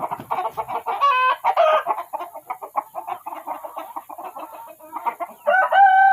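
Village chickens cluck in a busy, overlapping chorus while a rooster crows loudly several times, near and clear, with no speech over them.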